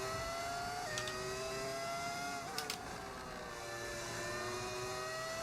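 A steady whining F1 race-car engine in the video game F1 25 drones with shifting pitch, broken by a couple of brief clunky knocks as the engine clunks out, close and continuous with no talking.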